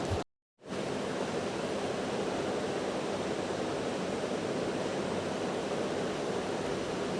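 Water hits hot frying spice masala with chopped tomato in a pan, giving a sudden loud, steady sizzling hiss that starts after a brief silence and continues evenly, with no talking.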